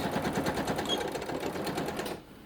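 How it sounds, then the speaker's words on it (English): A sewing machine back stitches through a quilted journal cover, its needle running in a fast, even rapid rhythm up close before stopping abruptly. "I'm just back stitching at the beginning and end."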